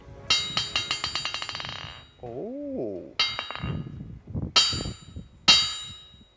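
A titanium hammer strikes metal, first in a fast run of ringing, clinking blows, then a few heavier single hits with bright, sustained rings. A short squeal and a brief voice exclamation come in between.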